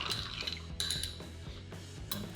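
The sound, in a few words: stirring Little Giuseppe cocktail with Cynar, bitters, lemon juice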